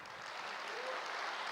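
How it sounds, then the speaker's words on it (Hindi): A lecture-hall audience clapping: a dense, fairly faint patter of many hands, rising slightly over a second and a half with no voices. "जोर से ताली बजाइए."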